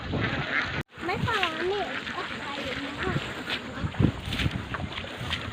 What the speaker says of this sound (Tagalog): Busog na po yung mga alagang itik po natin.